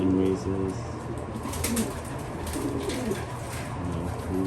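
Several pigeons coo in a loft, overlapping low rolling calls repeating throughout at close range, with a steady murmur of the flock and faint background chatter.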